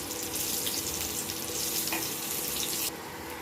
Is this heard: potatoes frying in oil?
yes